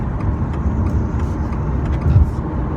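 A 2020 Subaru Legacy XT Turbo cruises on a freeway at about 70 mph, its cabin filled with a steady low engine drone and road and tire roar, with faint speech under the noise.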